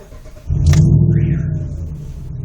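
A 2006 Jeep Grand Cherokee fitted with a custom side exhaust cranks and fires up, a sharp starter burst giving way to a loud, steady low rumble at idle, recorded close by.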